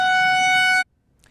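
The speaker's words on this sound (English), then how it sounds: "Tornado sirens continuing to go off. You can probably hear it in the background here." A loud, steady tornado warning siren wails for under a second, then cuts off abruptly into near silence.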